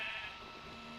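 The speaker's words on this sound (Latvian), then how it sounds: "Aitiņas." A single sheep bleat in Minecraft, a short, faint, wavering cry lasting about a second with no talk over it.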